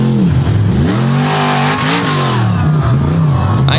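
A blue Chevrolet truck revs hard and launches on a slab wheelie attempt, its engine note loud and close, climbing and falling in pitch through sustained high revs for the whole stretch.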